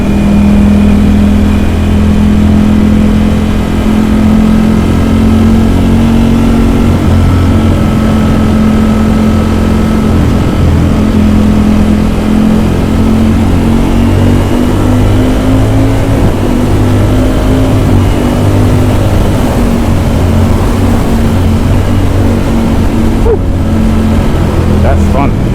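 A Ducati Streetfighter V4S motorcycle engine drones loudly and continuously while riding on a chilly day, its pitch shifting as it revs and settles, with strong wind rush throughout.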